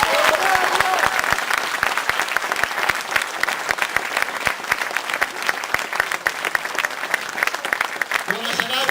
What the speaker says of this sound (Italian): Facciamo un grande applauso al nostro regista Mario Villani